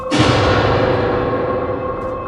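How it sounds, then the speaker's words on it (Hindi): A glass mirror shatters with a sharp ringing crash that decays slowly in a long metallic shimmer, a single loud horror-story impact heard alone. "ईशानी चीखने ही वाली थी कि आईना चकनाचूर हो गया"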